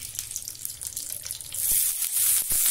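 Water poured into a pan of stuffed green chillies frying for Marathi bharwa mirchi sets off a loud hiss and sizzle, joined by a couple of sharp pops and clatters.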